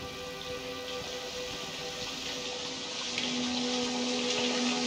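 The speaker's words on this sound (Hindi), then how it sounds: "पानी लीक हो रहा था" Water leaking and running inside a building in the horror game Outlast, heard as a steady, fairly loud rushing wash with a constant low hum beneath it and a faint tonal whine that rises near the end.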